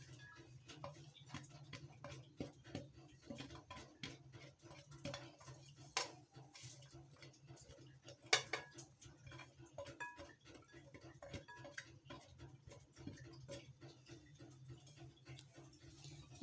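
Bread crumbs being stirred together with spices and chopped green onion in a bowl, giving soft, irregular clinks and scrapes of a utensil against the dish, quiet and steady throughout with no talking.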